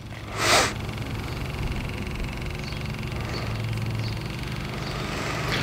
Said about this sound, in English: We'll go ahead and turn the pump on.